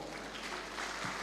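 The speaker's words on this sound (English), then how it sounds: "please give the national chairman a round of applause" Applause from an audience at a national engineering conference AGM, a steady broadband clatter of many hands clapping that fills the hall evenly for the whole stretch.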